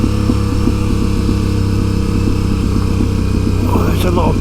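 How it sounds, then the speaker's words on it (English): A trail motorcycle engine-braking on a descent, a steady low mechanical drone with a regular throttled pulse throughout, close and fairly loud, joined by a brief higher rattling burst near the end. "That engine brake is just keeping the bike at its right pace"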